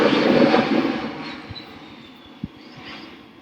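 An airplane passing overhead makes a broad roar that is loudest at the start and slowly fades as it moves away, with a couple of faint low thumps near the end.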